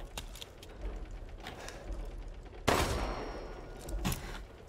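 Gunshots ring out in Resident Evil Village: one sharp, loud shot stands out midway, with lighter clicks and mechanical clatter scattered before and after it.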